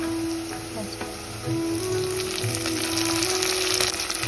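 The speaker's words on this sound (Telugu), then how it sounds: "బాగా అల్లం వెల్లి పేస్ట్ వేగాలి, పచ్చి వాసన పోయేదాకా వేగాలి." Ginger garlic paste and a handful of mint fry for a Telangana mutton curry, a continuous close sizzle and crackle with faint background sounds and no speech.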